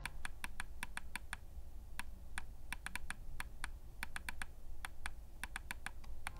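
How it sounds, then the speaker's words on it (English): Scroll wheel of a Roccat Burst Pro Air gaming mouse clicked repeatedly, producing sharp, close, quiet clicks in irregular bursts over a low background hum. "Pressing on it, it doesn't make a lot of noise and feels solid."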